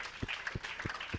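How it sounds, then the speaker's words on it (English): Applause for Imperial at a construction company and realtors conference, a low, distant wash of many hands clapping with a few louder thumps punctuating it, captured faintly through a live stream feed. "Can we give Imperial a round of applause?"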